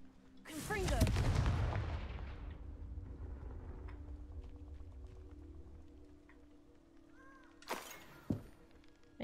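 A Confringo blasting spell in the Hogwarts Legacy video game goes off as one loud, booming explosion with a crackling tail that fades over a few seconds, followed later by a couple of smaller bangs.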